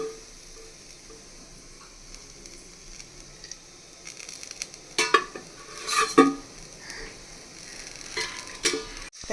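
Onions in a pan pushed aside on low flame as oil goes in and heats, for a traditional Maharashtrian mud-pot chicken sukka: faint stirring and scraping with soft sizzle, a few louder clinks and scrapes near the end.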